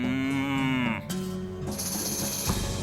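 Cows moo in the video game West of Loathing, one long drawn-out low call followed by further overlapping moos, loud and close with no talk over them.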